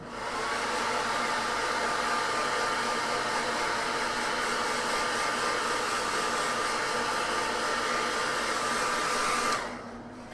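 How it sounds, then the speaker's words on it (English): Hairdryer blowing steadily on a painted miniature, a loud constant whoosh with a faint whine that runs for about nine seconds, then cuts off abruptly. "Hit it with a hairdryer again."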